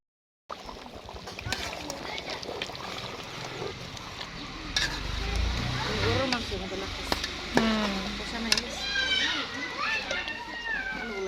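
Meat stir-fried in a pot over a wood fire on a clay stove, a steady sizzle with scraping stirs throughout, while children's voices and talk carry on close by.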